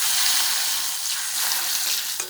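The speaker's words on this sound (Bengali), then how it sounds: "বেগুন ভাজা হচ্ছে। এই দেখেন একদম গাছের টাটকা বেগুন।" Fresh, just-picked eggplant frying in a pan makes a loud, dense, continuous sizzle close up, with no voices over it.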